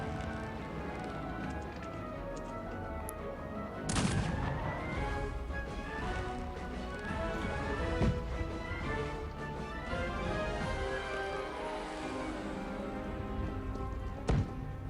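Artillery fire in the video game Cossacks 3, with a few sharp booming impacts and crashes over a continuous din of battle and game music, one hit near the start and another near the end.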